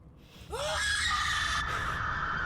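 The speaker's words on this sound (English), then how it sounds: "That was a high pitched scream." High-pitched scream from an Xbox Series X game presentation trailer: a sharp rising cry that swells into a sustained loud shriek over a low rumble, heard on its own without talk.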